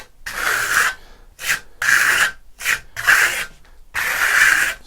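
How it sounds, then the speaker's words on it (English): Steel trowel sweeping Venetian plaster top coat across a wall in fan motions, giving close scraping rubs in four separate strokes with short pauses between them, no voices. "Sticking to those fan motions and the trowel angles, just working through."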